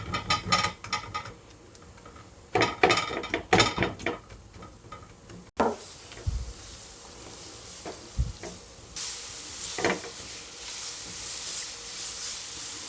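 Leek for a risotto is stirred in a pan as it wilts: a series of scraping, scuffing stirs, then a steady sizzling hiss with occasional utensil knocks.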